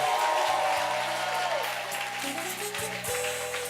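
A church congregation applauds and cheers in acclaim, a broad wash of clapping and crowd noise layered over sustained musical tones and voices.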